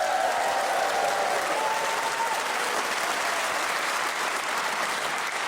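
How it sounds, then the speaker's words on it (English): A studio audience applauds and cheers for the panellists Paul Merton, Jennifer Saunders, Julian Clary and Anna Maxwell Martin, a dense, steady wall of clapping that holds at full strength throughout. "Please whoop and cheer for all of them."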